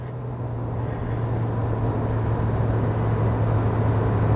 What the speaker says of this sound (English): Not with that engine screaming in your ear